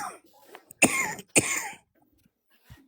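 Two sharp, loud coughs close together near the mic, followed by quiet shuffling and near silence.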